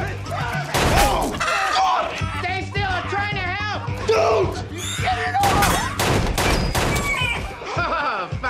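Gunfire shooting at chickens, a fast fusillade of sharp cracks and thuds going off repeatedly throughout, mixed with loud, frantic shouting voices and a crash of something breaking.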